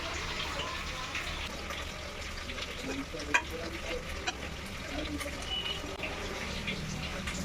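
Boiled rice is stirred into a pan for fried rice, making a low, steady sizzle with scattered scraping and clinking from the stirring, and one sharper knock partway through.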